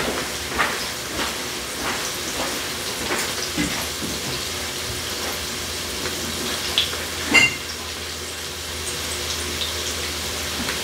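Butter and onions frying in a pan on a stove, a steady close sizzle and hiss with faint crackles and a few soft clinks, no one speaking.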